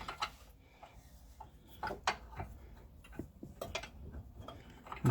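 A bolt being undone on the front anti-roll bar of a Ford Mondeo Mk3, quiet close ticking and clicking of a ratchet in irregular runs with occasional metallic knocks.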